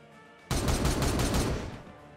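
Loud burst of sustained gunfire from the Warhammer 40,000: Regicide video game, a dense volley of rapid shots erupting suddenly and rolling on for nearly two seconds before tapering off.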